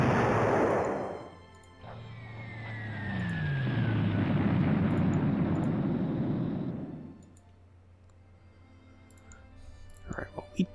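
Artillery bombardment of an army HQ in the WarPlan strategy game: a loud sustained roar of shelling with descending whistles, lasting several seconds before fading into a quieter rumble, with a few sharp clicks at the end.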